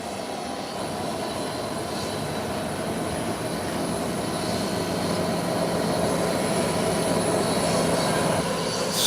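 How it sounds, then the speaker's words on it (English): A small twin-engine Cessna 402 taxiing along a taxiway toward the eastern parking ramp, a steady droning engine hum with a faint whine that slowly builds in loudness, with no talking. "It's a little Cessna 402. And it's coming into park at the eastern ramp."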